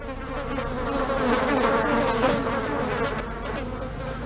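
Flies swarm at a garbage dump, their dense, steady droning buzz filling the air up close, rising slightly in the middle and never letting up, with no talking.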